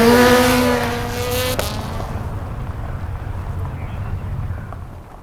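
A race car scrubs speed under hard braking, its falling engine tone sweeping down before it turns in, followed by a steady low rumble of tyres and engine; a voice talks over it.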